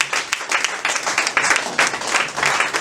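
A church congregation at a Togolese gospel service claps and cheers in praise, giving dense, lively applause that carries steadily through the moment with some voices mixed in.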